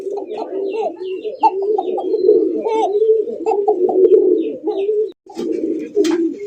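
A yellow Indian Bombai pigeon coos loudly and close in a continuous, throaty rolling call with short breaks, with faint voices in the background.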